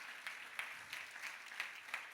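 A church congregation claps in praise, faint and distant, with a slow steady rhythm of about three claps per second.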